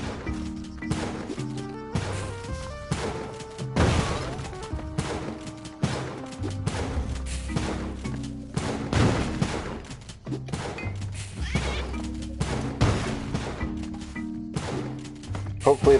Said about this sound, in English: I'm just gonna bomb this guy to death.